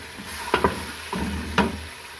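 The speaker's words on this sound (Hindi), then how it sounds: "और अब मैं इसको फ्राई कर लूँगी, दरमियानी आंच करके इसको फ्राई कर लूँगी।" Chicken fries in oil over medium heat with a steady low sizzle, broken by a few sharp stirring scrapes and clinks of a utensil against the pan, close by.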